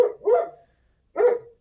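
A dog barks at new people working on the property, two close, loud barks, the first a quick double bark, then a pause before the single second bark, with no talking.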